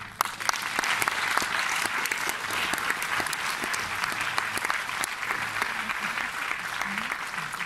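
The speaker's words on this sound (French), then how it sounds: "Sous les applaudissements" Steady, dense applause from a large audience at a film festival award ceremony, continuous clapping throughout with no pauses.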